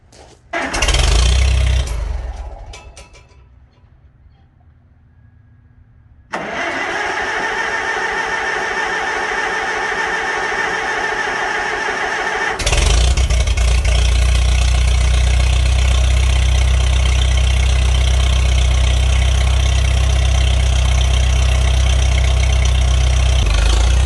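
A vintage Farmall tractor engine cranks and catches, then settles into a steady, close idle. Its loud, even running steps up to a fuller, heavier drone partway through, with no voices.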